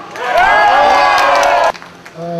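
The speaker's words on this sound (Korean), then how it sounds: "동지들의 힘찬 함성 시작!" A union rally crowd gathered outside Seoul city offices roars in a loud sustained collective shout for about a second and a half, then breaks off abruptly into scattered calls.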